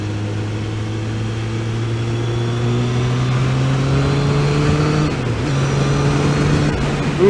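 A Harley-Davidson motorcycle engine runs close by, its steady low drone climbing gradually in pitch as it revs up, briefly dipping near the end, with no talking over it.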